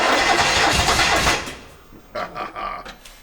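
An old barn-find Americana classic cranks and fires, a loud churning start that drops off into quieter sputtering bursts as the engine stumbles.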